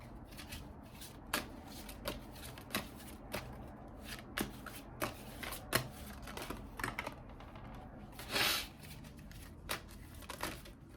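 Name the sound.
shuffling cards for a psychic reading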